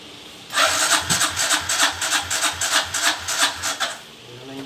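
A Suzuki Raider J115 Fi motorcycle, being troubleshot for stalling, is started up with a steady, rhythmic mechanical pulsing that runs loud and close for about four seconds before cutting off.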